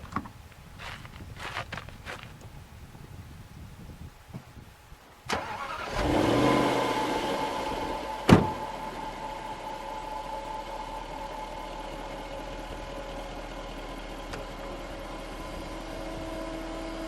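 A 2010 Jaguar XKR convertible, top down, cranks and fires into a loud flare before settling into a steady, quieter idle, preceded by faint shuffling and clicks.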